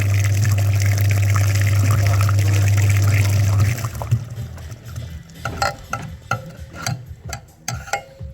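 Water gushes through the dirty heater core of a VW Passat as it is rinsed: a steady loud rush and hum that cuts off, then close splashing and dripping trickles.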